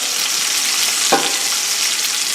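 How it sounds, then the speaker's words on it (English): A pork chop sears in a hot pan with a steady, close, broadband sizzle that holds for the whole stretch, broken by one brief low knock partway through. "So what I'm doing now is I'm searing the outside."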